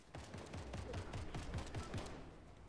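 Gunfire in Fortnite, a rapid steady string of about a dozen evenly spaced shots, fairly faint and heard alone.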